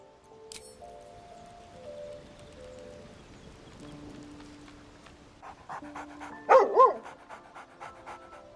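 A dog in the video game Baldur's Gate 3 pants in quick, soft breaths alongside game music tones, ending in a brief louder yip or whine.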